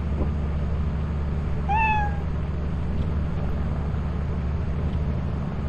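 A cat in the video game Lethal Company gives a single short meow over a steady low mechanical hum, brief and moderately close.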